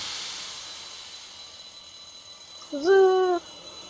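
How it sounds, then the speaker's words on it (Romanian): After a soft hiss, an electronic burglar alarm in a zombie apocalypse video game blares a steady, high tone for under a second and then cuts off abruptly. "ei au alarmă de hoți în apocalipsă."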